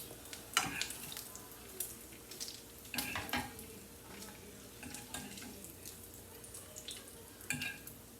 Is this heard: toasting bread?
yes